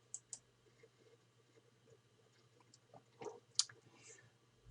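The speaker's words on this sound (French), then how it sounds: "Donc, je clique sur un point" Computer mouse clicks while plotting a route point in the openrouteservice web mapping tool, a few crisp quiet clicks spread over a few seconds against faint room hum.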